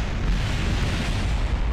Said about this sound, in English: Was it the boosters that made it explode?